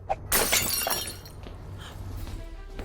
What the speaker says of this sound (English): What happened to it? It's all smashed.